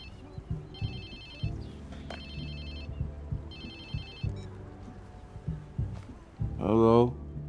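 Repeated electronic phone ringtone bursts in Watch Dogs 2, three rings over a game soundtrack and background, followed by a voice answering.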